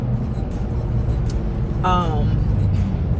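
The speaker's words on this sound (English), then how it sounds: "I hope my car is not too loud to where y'all can't hear me." A car engine's low, continuous rumble fills the cabin while driving, steady throughout and heard under a person talking close by.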